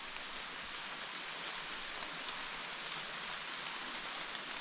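Steady rain falls outdoors, a dense, even hiss of drops that stays constant throughout with no voices over it.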